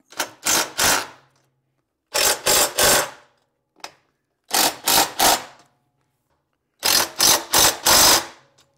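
Bolts on a luggage rack for a BMW 1250GS motorcycle being tightened, heard as four bursts of quick ratcheting clicks, each a rapid run of three to four strokes separated by short pauses, close and fairly loud with no talking.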